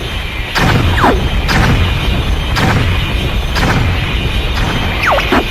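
Booming explosions in Star Fox 64 go off every second or so, each a heavy thud with a crash, over steady game background noise and occasional whooshing effects.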